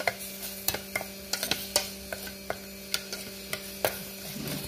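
Masala roasts in ghee in a pan, a faint low sizzle broken by irregular sharp clicks and scrapes of a spoon stirring against the metal, over a steady electrical hum.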